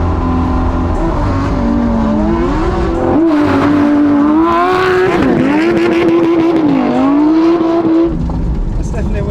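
Lamborghini Aventador SVJ and Huracan STO supercars racing on a cold, icy road, loud engines revving and rising in pitch through several gear shifts, with voices talking over the roar.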